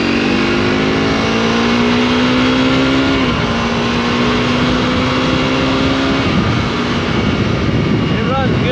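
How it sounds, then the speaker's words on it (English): A 2020 Honda CRF250RL Rally 250 cc dual-sport motorcycle revs hard, its engine note climbing steadily before dropping back twice, as if shifting gears, loud and close. "if you let this bike rev"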